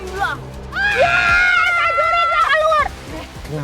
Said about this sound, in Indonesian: Pada ngapain sih teriak-teriak?